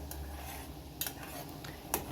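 A spoon stirs a mushroom marinade with vinegar in a pot, giving soft scraping and a couple of light metallic clinks over a quiet simmer.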